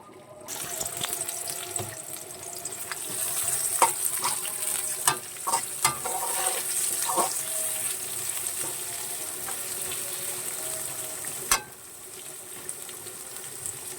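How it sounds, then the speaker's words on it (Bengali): Onions sizzle steadily in a hot pan after fish frying, with scattered clicks and scraping of stirring throughout, loud and close. "পেঁয়াজগুলোকে ভেজে নেব"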